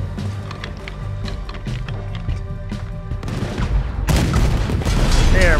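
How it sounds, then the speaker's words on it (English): A cannon in Red Dead Redemption 2 firing near a ship, with repeated sharp booms and crackling gunfire that grow louder and denser toward the end. Faint voices sit underneath. "Use the cannon, damn it."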